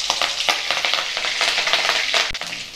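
Chopped green chili hits hot oil in a pan, giving a loud continuous sizzle and crackle with stirring scrapes throughout, close and without speech.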